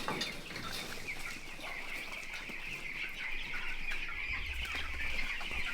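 Chickens on a Jamaican chicken farm cluck in a busy flock, repeated close calls over a constant high insect-like hum, with a low rumble near the end.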